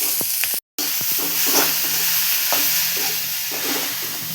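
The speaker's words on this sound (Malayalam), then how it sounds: "വറ്റൽമുളകിട്ട് അത് മൂത്ത് വരുമ്പോൾ നമുക്ക് ബീറ്റ്റൂട്ട് ഉരച്ച് വെച്ചത്" Grated beetroot and dried red chillies frying in a pan, giving a steady close sizzle with stirring scrapes and clicks, alone, broken by one brief silent gap.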